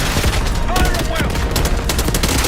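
Call of Duty Black Ops 6 gunfire: loud, close, continuous bursts of rapid automatic shots rattling without pause, with a brief voice mixed in.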